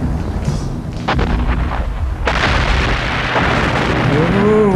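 A German artillery attack on a harbour in 1941 Egypt booms in repeated heavy blasts and rumbling explosions, loud and continuous, with a brief voice at the end.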